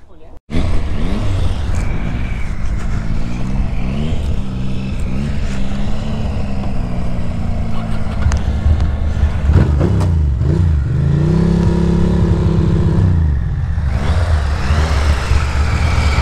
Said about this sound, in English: It's gonna be a drag race.